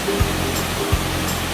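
Ko Luang waterfall in Mae Ping National Park, Li district, Lamphun, pours over rocks in a constant, dense rush of water, close and loud, with a couple of faint low thumps.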